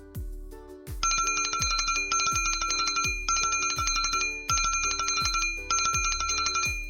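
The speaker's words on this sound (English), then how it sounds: "The boy can hear the ringing bell using his ears." A bright electronic bell rings in a fast repeating trill, bursts of ringing pulses recurring about once a second for several seconds, loud and clear with nothing else heard.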